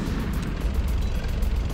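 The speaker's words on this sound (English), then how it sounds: "Oh, that's what the stun grenades are for" A stun grenade going off in Metal Gear Solid: The Twin Snakes, a sustained loud, rumbling low boom that fills the whole moment without clear breaks.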